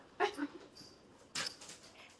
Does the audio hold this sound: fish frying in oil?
no